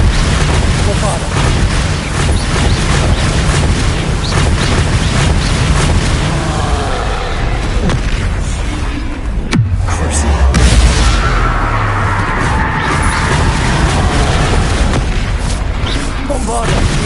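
Bombarda spell explosions in Hogwarts Legacy, loud booming blasts amid chaotic combat noise, with a deep low rumble around the middle, and a voice calling out spells over it.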